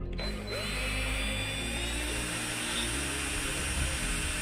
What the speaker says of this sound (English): I'll go ahead and drill this 95 out to 120